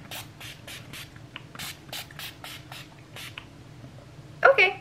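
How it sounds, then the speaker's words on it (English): Urban Decay All Nighter setting spray misted onto a face in short hissy bursts, about a dozen quick spritzes spread over several seconds at close range, ending with a louder clatter. "we are going to set our face with some setting spray"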